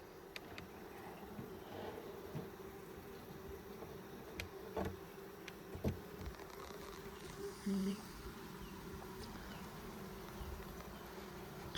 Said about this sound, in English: these bees look like they've come down into the hive. They're filling up this hive.